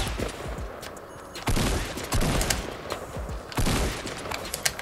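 Gunfire in Fortnite: a series of loud, close shots and short bursts spaced a second or so apart, each with a sharp crack and ringing tail, alone without talk.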